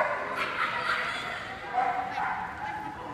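A dog at a steeplechase agility event gives excited yips, whimpers and short barks. Voices and crowd noise carry on around it.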